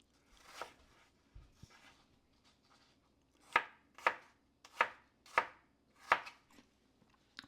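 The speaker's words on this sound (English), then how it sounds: "These still need to be chopped up a little bit more." A knife chops apples on a cutting board, starting with a few soft scattered taps and then landing five or six crisp, evenly spaced thuds close by, with no one talking.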